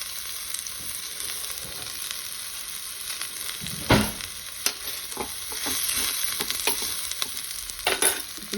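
Radish chutney ingredients, including dried red chillies, fry in a pan with a steady sizzle and crackle, punctuated by several sharp scraping stir strokes toward the end.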